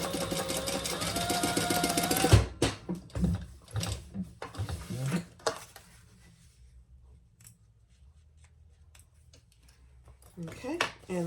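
A sewing machine stitches a fabric sling in short, clattering bursts of rapid mechanical ticking, quiet and intermittent, with pauses between runs and a voice talking nearby; a brief stretch of music precedes it.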